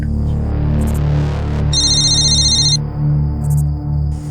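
A mobile phone rings with a short burst of bright electronic tones over a loud, constant low hum, with no talking.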